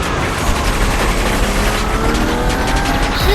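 Police helicopters in the video game Gangstar IV, a loud, dense roar of rotors mixed with bursts of gunfire and explosions that carries on steadily for the whole moment.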